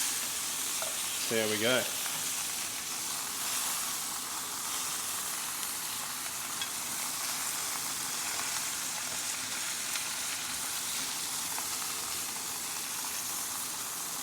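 Eye fillet steak searing in a hot pan, a constant loud sizzle and crackle throughout, with a brief spoken remark and a short squeak early on.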